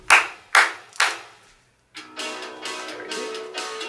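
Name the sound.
children clapping hands three times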